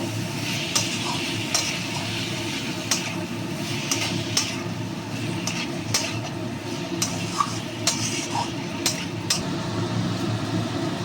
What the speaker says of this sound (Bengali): এবার আমি সেদ্ধ করা মোচা আর আলু দিয়ে দিচ্ছি এর সঙ্গে ভালো করে